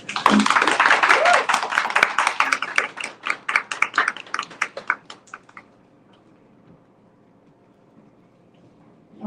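Audience at an author event for Vanessa Riley breaking into loud applause, dense clapping close by that thins into scattered individual claps and dies out after about six seconds, with a brief voice at the start.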